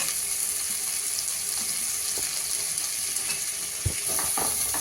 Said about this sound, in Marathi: सगळं छान मिक्स करून घ्यायचं आहे